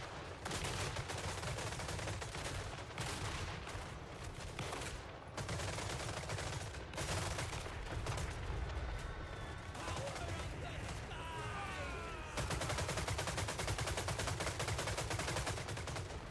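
Massed gunfire in a Total War Warhammer III battle, dense crackling volleys rolling on steadily under a continuous battle din, with a voice talking over it.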